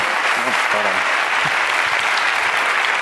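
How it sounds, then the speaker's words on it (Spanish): An audience applauds at a talk on amputee patient care: steady, dense clapping that fills the whole stretch, with faint voices underneath. "aquí está mi querido paciente Gabriel, para quien pido un aplauso"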